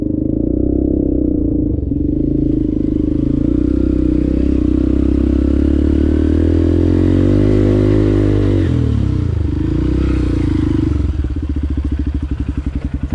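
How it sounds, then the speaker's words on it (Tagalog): A motorcycle climbs a rough enduro trail on the way toward Mount Pulag, its engine droning loud and close with shifting revs, a dip mid-way, then rapid choppy pulses as it labors over the terrain. "Titingnan natin kung saan daw aabot yung motor natin."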